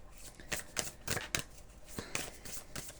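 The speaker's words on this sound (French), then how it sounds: "je vais quand même vous prendre une dernière carte avec les féminins de lumière" Oracle cards are shuffled by hand in quick, soft riffling bursts, a run of close, crisp flicks and slaps in an irregular rhythm in an otherwise quiet room.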